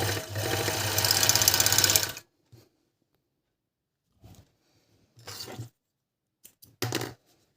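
A Dragonfly GN1-114D four-thread overlock sews through thick layered fabric in one loud continuous burst of about two seconds, followed by quiet stretches with a few short bursts of running and handling clicks.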